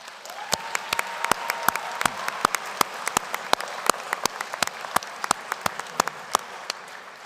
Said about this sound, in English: let's have a round of applause for all the love in the